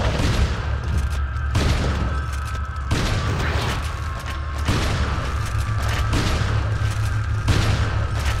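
Shotgun blasts in Resident Evil 4 on a no-hope challenge run, a series of booming game shots at roughly regular intervals over a dense, loud game soundscape with a steady low rumble.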